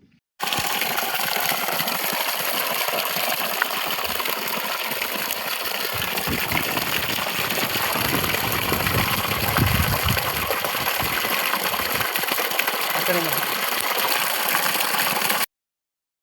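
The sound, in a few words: water gushing from a solar-powered borewell pump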